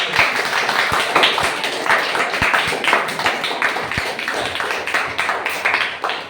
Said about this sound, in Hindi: एक बार जोरदार ताली इस बच्चे के